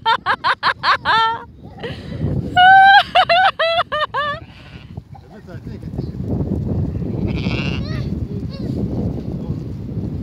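Sheep bleat loudly nearby in two quick bursts of wavering calls, then a steady rustling, splashing background takes over.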